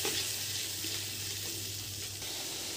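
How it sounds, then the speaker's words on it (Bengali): Ground spices frying in oil for alur dum, with a soft, even sizzle holding steady over a low background hum and no voices. "মশলাগুলো ভালো করে কষিয়ে নেব।"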